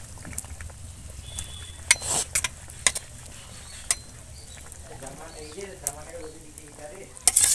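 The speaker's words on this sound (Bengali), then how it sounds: "এবার ভেজে রাখা বেগুনগুলো দিয়ে দিচ্ছি" Fried eggplant pieces are tipped into a pan of simmering mustard fish curry and stirred, with a soft bubbling sizzle underneath, sharp clinks and scrapes of a metal spoon against the pan, and a voice briefly in the background.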